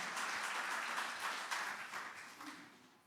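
A church congregation at a Sunday service applauds: broad, continuous clapping across the whole clip, loud at first and gradually easing off toward the end.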